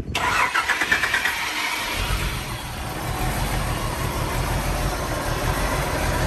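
A Chevrolet Omega's engine cranks and catches, then settles into a steady, close, rumbling idle that keeps running on its own with no voices over it.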